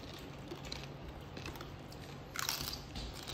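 Crunchy bites into freshly cooked food at home, a steady crackling chew close by with a sharper, louder crunch near the end and no talking.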